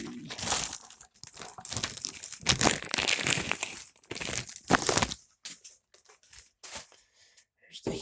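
Plastic wrapping crinkles in close, irregular bursts while a 1300-watt Audiopipe half-bridge car amplifier is being unboxed, with busy handling for about five seconds and then sparser crackles.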